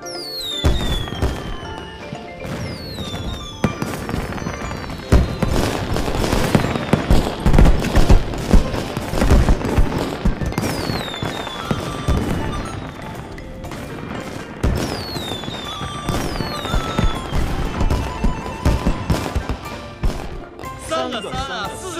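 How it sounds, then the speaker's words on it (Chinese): New Year fireworks burst and crackle in dense, repeated volleys of pops and booms throughout, mixed with music while people talk over them. "就惦记你的烟花了吧"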